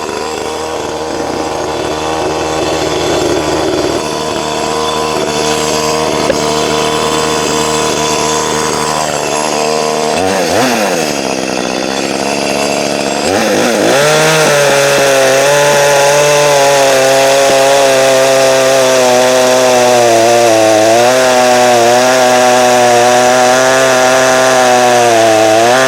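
An Echo CS310-ES chainsaw runs loud and close throughout, its engine dropping and shifting pitch midway as it bites into wood, then holding a steady high whine under load to the end.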